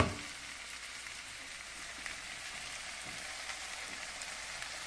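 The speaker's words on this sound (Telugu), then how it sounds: "మనం గరం మసాలాలు వేసిన తర్వాత ఇలా చక్కగా కలుపుకోవాలి." Mutton curry with garam masala frying in a pot, a soft even sizzle with faint stirring scrapes, quiet and close throughout, no one speaking.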